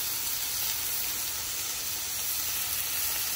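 Sesame seed oil dropped into a hot vintage Lodge cast iron wok gives a steady, even sizzle and hiss, moderately loud and continuous, with no talking over it.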